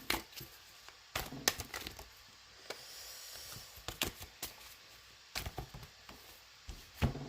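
Tarot cards being shuffled and drawn from a deck make soft, irregular clicks and light slaps at close range in an otherwise quiet room, with no speech.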